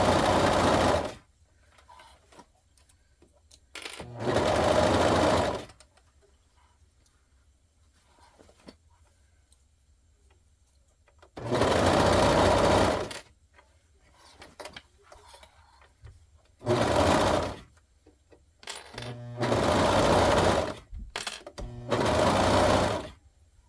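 A sewing machine stitches an elastic waistband onto cotton boxers in several loud bursts of rapid whirring, each lasting one to two seconds, with quiet pauses and small handling sounds in between.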